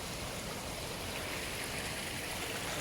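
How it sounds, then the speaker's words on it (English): A small waterfall pours in a continuous, even rush of water, close and steady throughout with no pauses. "So Chicequilibrestyle have his own little waterfall here"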